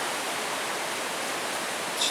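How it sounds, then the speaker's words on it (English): A river flows steadily beside a campsite on the Superior Hiking Trail, giving a loud, unbroken rushing wash of water with no voices. "I find that I just sleep a little bit better to the sound of the river"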